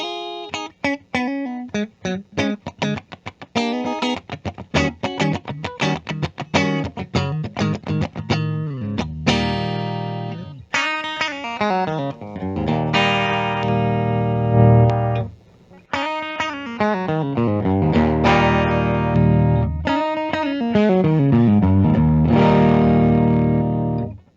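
A 1997 Gibson Les Paul DC Pro with P90 pickups, set to the middle pickup position, played clean through effects: quick picked chords and single-note runs, then ringing sustained chords and note bends, loud and close with no talk.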